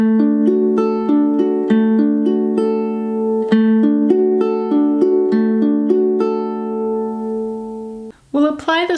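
A ukulele strums a steady repeating pattern at song tempo, chords ringing clearly with even rhythmic accents for about eight seconds before a voice begins speaking.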